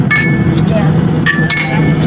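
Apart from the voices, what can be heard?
glasses clinking in a toast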